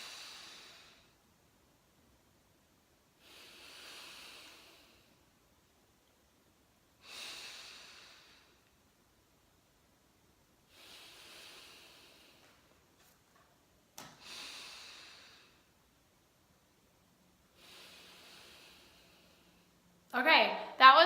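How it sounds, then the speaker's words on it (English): Slow, deep breaths come in six or seven long, soft inhales and exhales evenly spaced with quiet gaps, close and clear in a still room during box breathing practice. A brief louder sound ends it. "I just want you to practice breathing like I do"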